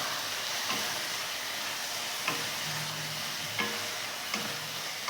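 Lote fish jhuri with chopped coriander stirred in a pan, a continuous hissing sizzle broken by occasional spatula scrapes and clicks at a slow, irregular pace, with no talking.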